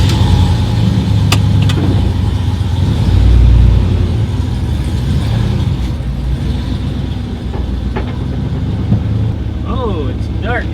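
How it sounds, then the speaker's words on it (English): A car out on a short night test drive after fitting an LED light bar, with a steady, loud engine and road rumble throughout and a voice talking over it. "Time for a little test drive."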